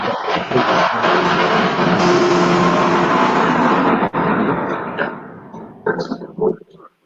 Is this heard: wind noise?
no